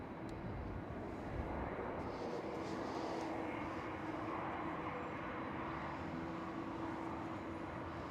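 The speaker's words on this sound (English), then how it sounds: "Right there, the KLM A330 is starting up." A KLM Airbus A330 starting up its engines at Amsterdam Schiphol Airport, heard as a steady broadband roar with a low sustained hum, continuous and fairly distant with no talk over it.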